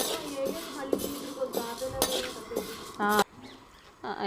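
Dry red chillies roasting in a pan, stirred with a metal utensil that clinks and scrapes against the pan repeatedly in an uneven rhythm, close and fairly loud, with a brief stronger rattle near the end.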